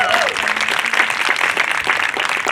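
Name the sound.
audience applause for program fellows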